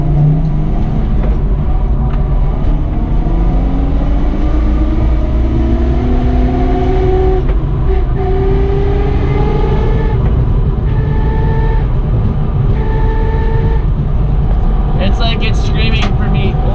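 A loud, stripped-out, weight-reduced car drives with its engine note climbing in repeated rising sweeps through the gears. The sound is harsh, close and constant, over a heavy road and cabin drone.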